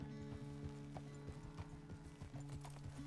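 Steady clip-clop of horse hooves at a walking pace in Red Dead Redemption 2, close and rhythmic, with a faint snort or whinny and light background music.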